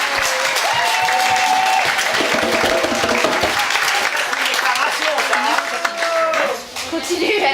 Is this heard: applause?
yes